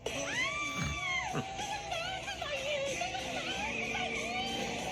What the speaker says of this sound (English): the intimidating villain suddenly screaming like this